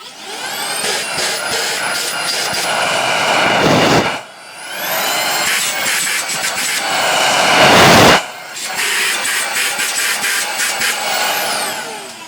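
A refurbished Beko cordless vacuum cleaner runs with a loud, high-pitched whine, switched off briefly twice and restarted, with the motor note shifting slightly as it spins up and settles.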